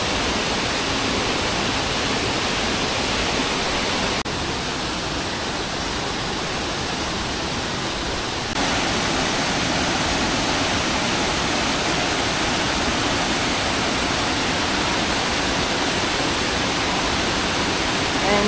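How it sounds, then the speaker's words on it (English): Waterfall at Nam Pian Yolapa, heard from close in front as a loud, steady roar of falling water that stays constant throughout and briefly dips in level partway through. "go sit right in front of the waterfall"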